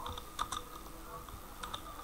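Typing on a computer keyboard, a quick scatter of light key clicks in short bursts, quiet and close, with no talking over it.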